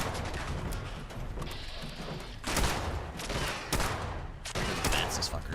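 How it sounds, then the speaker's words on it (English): Gunshots in Fallout 76: a run of sharp, loud bursts at irregular intervals, the later ones in quick succession, over a dense noisy game backdrop with some voice mixed in. "I heard more shots."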